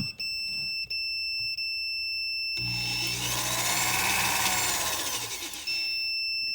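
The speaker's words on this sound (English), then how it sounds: "I replicated ground speed by turning this switch with my drill." A continuous continuity-tester beep, briefly interrupted, then a loud power drill whirs up and spins a vintage Mopar transmission governor switch for several seconds while the beeping drops out, then returns.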